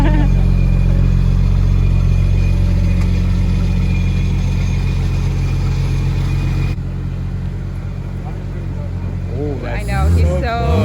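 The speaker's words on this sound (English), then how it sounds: "Letting the car warm up a little bit" A modified 750 whp BMW 135i idling while warming up, a loud steady low rumble that drops slightly in level partway through, with people talking near the end.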